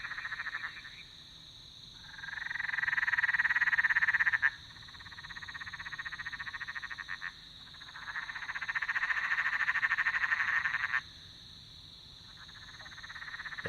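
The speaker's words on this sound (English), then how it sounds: "Big fat frog like this. Bonk. Hear it?" A big fat frog sits submerged in water and gives a deep, resonant 'bonk' call, repeated a few times. The calls ring out clearly over a steady chorus of high-pitched insects or frogs.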